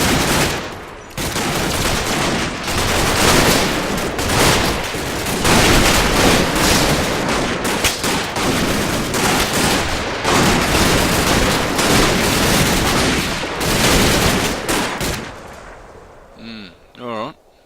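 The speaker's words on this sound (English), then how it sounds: "You can even hear all the bullets whizzing past the head from back here" Dense gunfire in the Combat Mission WWII-era game, a near-continuous rattle of rifle and machine gun shots with booms and bullets whizzing past, loud and relentless before tapering off at the end.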